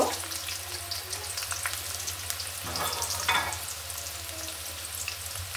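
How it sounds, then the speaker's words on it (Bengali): Chopped onions fry steadily in a pan with green chilies, a continuous close, even sizzle and crackle with a few brief stirring bursts and no voices. "আমি পেঁয়াজটা ভালোভাবে ভেজে নিব।"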